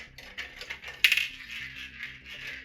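A loose ball bearing rattles inside a thrift store item, producing a bright metallic clink and jingling rattle that peaks sharply once and then continues in lighter shaking, close and fairly quiet.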